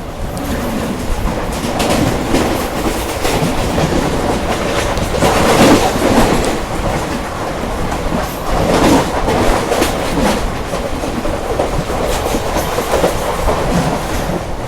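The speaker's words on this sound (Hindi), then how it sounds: "अब ये पता नहीं कौन सी ट्रेन आ रही है" A passenger express train passes close by on Indian railway tracks, its wheels clattering loudly and steadily over rail joints throughout, with no talk over it.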